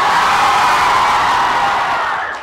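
A large audience at a Halloween costume contest roars with loud shouting, whooping and cheering, a dense sustained wall of voices that begins to fade toward the end.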